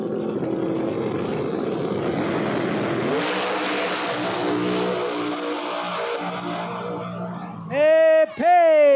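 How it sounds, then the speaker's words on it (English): No Prep Kings drag race cars roar hard at full throttle, a loud sustained blast that fades toward the end, followed by a sharp rising-and-falling engine rev. "Great drag race."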